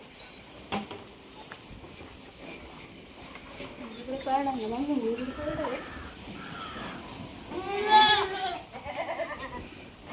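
Goats bleat a few times, faint at first, then a louder wavering bleat, with people talking nearby.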